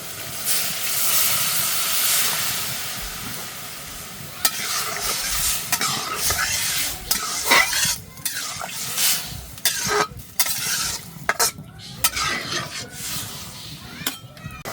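A vegetable curry with greens gets stirred in a hot pan, a hissing sizzle beneath repeated scraping strokes that grow more frequent and uneven toward the end, with no one speaking.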